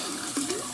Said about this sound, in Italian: Allora mi sciacquo solo il viso.